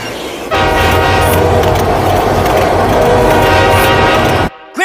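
A cartoon subway train rides by loudly, with a sustained horn-like tone over rattling rail noise that cuts off abruptly near the end.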